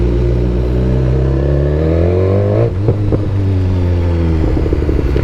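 BMW S 1000 XR motorcycle engine rising in pitch under acceleration, then a brief dip at a gear change and a steady pull again, loud and close throughout.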